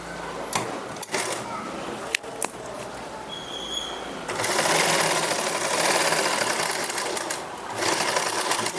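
Sewing machine stitching tucks on a blouse, starting with a few sharp clicks before a steady, fast whirring run of stitches, close and alone.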